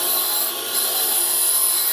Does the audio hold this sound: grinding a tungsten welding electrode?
yes